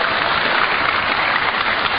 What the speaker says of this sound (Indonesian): tepuk tangan boleh karena ini di balai komando ya Pak ya, bukan di dalam masjid